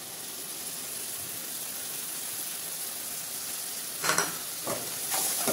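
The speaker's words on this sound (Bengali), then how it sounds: "এর মধ্যে এবারে আমি দিয়ে দিচ্ছি কাজু আর মগজ বাটার পেস্টটা" Cashew and melon seed paste frying in oil in a pan for a pointed gourd and curd sabzi: steady loud sizzle throughout, with a couple of stirring clatters near the end, no voices.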